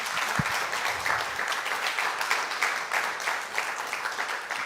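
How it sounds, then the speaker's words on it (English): Steady audience applause at a community forum talk, dense clapping from a room of people sustained throughout with no speech over it. "Let's give her one more round of applause."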